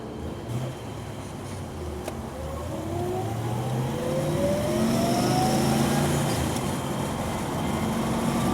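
A 1961 Chevrolet Corvette C1 drives along, its engine droning steadily under a constant road rumble and slowly rising in pitch as the car picks up speed, with no voices.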